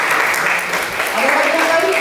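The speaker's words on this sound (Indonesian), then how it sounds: "Tepuk tangan dong." A classroom of people claps together in a short burst of applause, dense and fairly loud throughout, with a voice speaking over it in the room.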